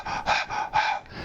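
A voice imitates a dog panting with a few quick, close, breathy in-and-out puffs, loud and alone.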